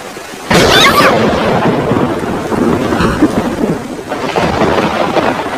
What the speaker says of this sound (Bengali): এটা কিন্তু বর্ষাকালের বৃষ্টি